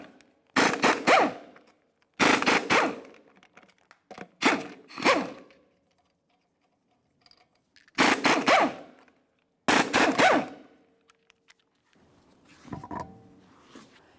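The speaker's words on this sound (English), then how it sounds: "We'll continue on by removing all 5 of our 19mm lug nuts and then the wheel." Impact wrench zipping 19mm lug nuts off a 2007-2018 Jeep Wrangler wheel, five loud close bursts of whirring rattle, each about a second long, separated by short quiet gaps.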